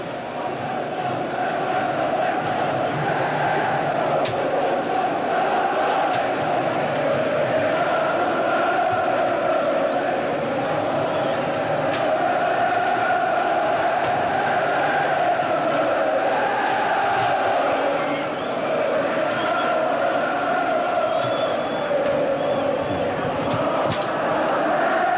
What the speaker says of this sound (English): just listen to the crowd as the teams take a couple of minutes break at the end of 90 minutes